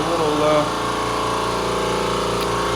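An air compressor in a powder-coating shop runs with a steady, pulsing motor drone and rhythmic hum.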